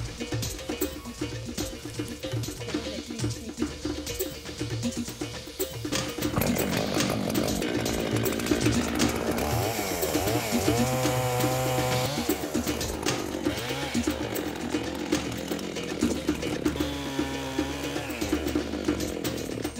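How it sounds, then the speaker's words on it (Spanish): A chainsaw cuts down a tree in a forest, buzzing steadily at first, then bogging into a louder, lower labored roar as the chain bites into the trunk, with revs rising and falling throughout. "Nosotros talamos los árboles con motosierra."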